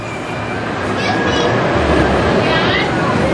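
A roller coaster train at Kings Island rumbles loudly through the mid-course brake run, a dense steady roar with faint squealing tones as it slows, while a voice talks over it.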